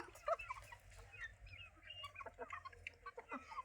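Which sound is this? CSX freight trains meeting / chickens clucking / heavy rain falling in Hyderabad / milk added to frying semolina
chickens clucking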